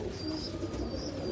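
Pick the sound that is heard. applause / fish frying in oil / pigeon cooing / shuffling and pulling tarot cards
pigeon cooing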